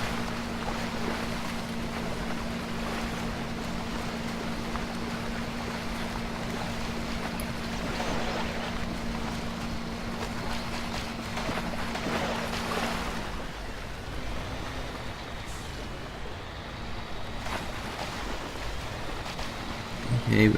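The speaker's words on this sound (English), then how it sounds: "A bit of a slug in the water, but this is one of the in-game trucks" An in-game truck driving through water in Spintires: Mudrunner, a continuous low engine drone with steady washing, splashing water noise, holding evenly for twenty seconds with a faint tone dropping out partway.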